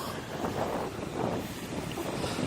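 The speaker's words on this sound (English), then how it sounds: "Oh no, that's still windy" Steady wind buffeting the microphone in low rumbling gusts outdoors in Norway, with a faint watery wash behind it and no voices.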